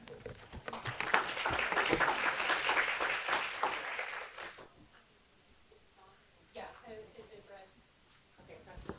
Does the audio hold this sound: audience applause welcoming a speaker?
yes